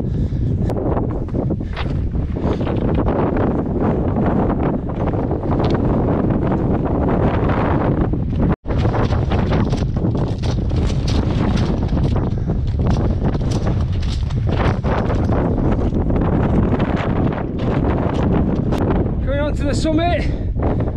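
Strong, continuous wind roars and buffets across the summit of Great Gable, loud and unbroken apart from one brief dropout.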